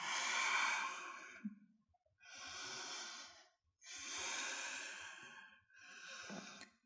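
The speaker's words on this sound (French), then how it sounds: "Grande inspire par le nez." Slow, deep yoga breaths in a studio, four long airy inhalations and exhalations in a steady rhythm, close and fairly loud with short pauses between, no talking.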